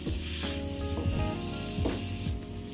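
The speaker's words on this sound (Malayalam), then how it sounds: "ഇതിലേക്ക് നമുക്ക് വെളുത്തുള്ളി ഇഞ്ചി പേസ്റ്റ് ഇട്ട് കൊടുക്കാം. അത് നമുക്ക് നന്നായിട്ട് വഴന്ന് വരണം." Garlic ginger paste sizzles with onions in a pan, a continuous close frying hiss broken by several scraping stirs with a spoon.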